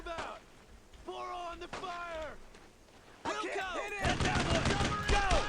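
Suppressing gunfire in the video game Brothers in Arms: Road to Hill 30. Voices talk over a quieter stretch at first, then dense, loud bursts of rifle and machine-gun fire set in and keep going to the end.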